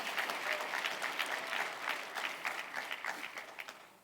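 A church congregation applauds loudly and steadily, dense clapping from many hands filling the room for several seconds before easing slightly.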